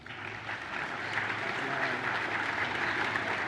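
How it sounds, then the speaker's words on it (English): A conference keynote audience gives a round of applause for the event sponsors. The crowd claps steadily and fills the room, swelling slightly and holding at an even level throughout. "please join me in a round of applause for all of the WEST sponsors"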